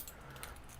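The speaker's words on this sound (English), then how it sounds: "my set of keys." A set of keys jangles briefly and softly, a light metallic rattle lasting under a second with no one talking.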